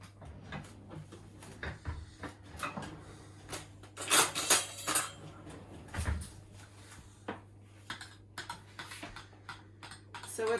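Toad in the hole batter being mixed by hand: a steady run of quiet, close clicking and tapping strokes in an irregular rhythm, with a few louder knocks in the middle.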